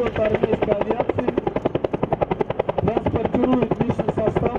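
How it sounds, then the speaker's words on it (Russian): An army aviation helicopter passes close and loud, its rotor beating in a fast, even chop that holds steady throughout. "Второй вертолет армейской авиации"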